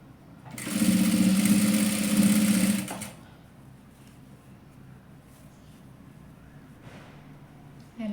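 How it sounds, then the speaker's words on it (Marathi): A sewing machine stitching a fabric bonnet cap runs in one steady, loud mechanical whir for about two seconds, then stops, leaving quiet room tone with faint movement. "पूर्ण शिलाई मारून घेते"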